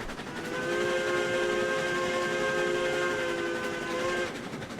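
A steam train in the RailRoads Online video game sounds a long, steady steam whistle, a loud multi-tone blast held for about four seconds over a hissing rumble of the running train, with no talking.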